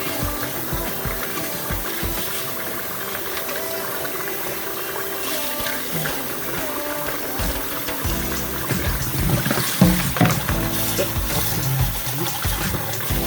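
Cold tap water runs steadily while ramen noodles are rinsed by hand in a bowl or strainer, a continuous close splashing and trickling with louder sloshes toward the end.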